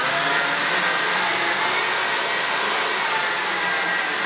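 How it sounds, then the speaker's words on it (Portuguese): A stand mixer whirs at high speed, beating egg whites as hot sugar syrup is poured in for a Treviso-style tiramisu. The motor drone is steady and unbroken, close and alone, with no talking. "eu vou incorporar isso aqui na batedeira. Vou continuar batendo aqui."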